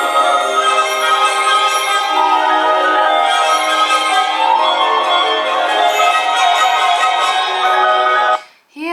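Shimmering orchestral bells from Rachmaninoff's The Bells ring out with sustained bright tones, harp plucks and a light triangle adding sparkle, continuous and fairly loud before cutting off at the end.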